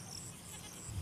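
A pregnant goat on a farm gives a short bleat, close by and fairly faint, over a steady background hiss.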